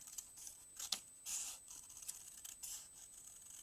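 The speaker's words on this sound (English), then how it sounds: "I'm just going to take my scissors and I am going to cut just a little bit of a snowbank in here" Scissors snip paper for a Christmas tree shaker card, cutting out a small snowbank shape with a few faint, crisp cuts and light rustling, close and quiet.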